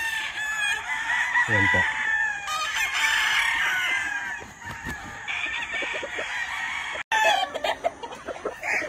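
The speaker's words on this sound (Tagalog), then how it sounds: "This is our personal, for our personal use only brood bull stag." An imported Kelso brood bull gamecock stag crows loudly and nearby on a Philippine farm, with repeated crows and clucks from other fowl and someone speaking briefly.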